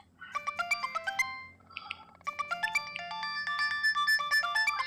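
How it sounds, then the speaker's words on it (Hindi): A phone ringtone plays loud and close in a repeating melodic pattern of quick electronic notes, briefly pausing before the tune starts again, with no voices over it. "कौन सुबह सुबह फोन कर रहा है भाई?"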